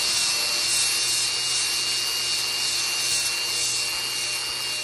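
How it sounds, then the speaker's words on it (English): Wood is sanded with 80 grit sandpaper, a loud, continuous coarse rasping hiss that holds steady throughout without pause. "I'm hitting this with some 80 grit"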